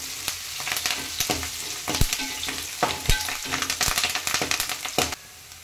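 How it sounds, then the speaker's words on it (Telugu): Mint leaves, curry leaves and onion fry in a pan, a steady close sizzle broken by sharp clinks and scrapes of a spatula stirring through the leaves, with no voices. "ఇదిగోనండి మన పుదీనాకు కరివేపాకులో ఆనియన్ కూడా మంచిగా వేగింది."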